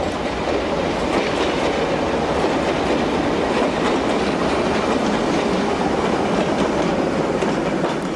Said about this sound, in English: Here another Alco brings in a local from Setúbal.